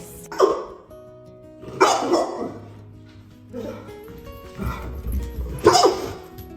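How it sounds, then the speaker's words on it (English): Kobe, a rescue dog with a strikingly unusual bark, lets out four or five separate hoarse, yelping barks at irregular intervals, close by and moderately loud. "His bark is extremely unique. It doesn't sound like a typical dog's bark."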